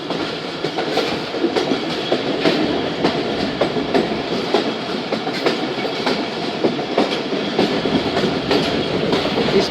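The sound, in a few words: Jaffar Express train passing slowly over a bridge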